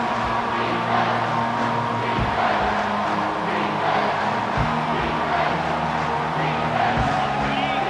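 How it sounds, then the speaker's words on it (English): A home crowd roars steadily throughout at a football game as the defense faces third down, a dense continuous cheer with no clear talk over it. "Here comes this home crowd as the defense tries to get off the field on 3rd down."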